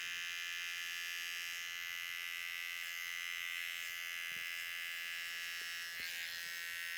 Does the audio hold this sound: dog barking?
no